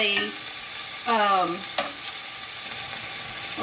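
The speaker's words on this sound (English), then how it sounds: "I'm just getting them really just browned on each side because this is going in the oven" Meat browns in a frying pan for a Philly-style flatbread, a constant hissing sizzle with a sharp clack midway, alongside a couple of brief tonal squeaks early on.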